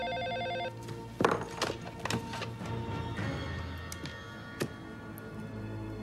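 A telephone rings in a room with a repeating electronic bell pattern at the start, then fades under scattered knocks, clicks and ticking sounds, fairly quiet overall.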